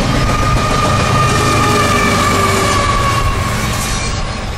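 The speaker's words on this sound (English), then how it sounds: "No double stacks, just well cars with single container boxes or trailers riding piggyback on articulated spine cars" A freight train of well cars carrying single containers and trailers on articulated spine cars rolls past close by, a loud continuous rumble of wheels with faint squealing tones, steady from start to finish.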